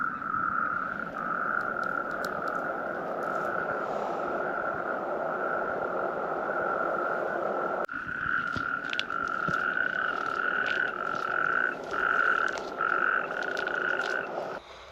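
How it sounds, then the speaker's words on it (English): Marsh frogs croak through the night beside a marsh in Portugal. A dense, continuous chorus of rasping calls fills the clip, with closer, louder croaks joining in the second half. "other than being serenaded by marsh frogs all night"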